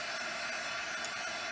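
A hair dryer blows on watercolor paint on plastic, a steady, loud, unbroken whoosh of air that holds an even level throughout with no voices.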